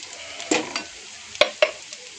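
Onion and slit green chillies fry in a pan with a soft continuous sizzle, broken by three sharp scraping stirs of a spatula; no one speaks.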